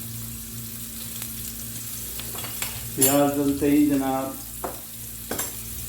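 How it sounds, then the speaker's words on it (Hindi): Chopped onion hits butter in a hot pan on a stove, giving a steady close sizzle that swells into a louder burst of frying midway, with a brief spoken word and a few clinks around it. "ये मैंने प्याज डाल दी, प्याज कुतर के रखी और डाल दी प्याज।"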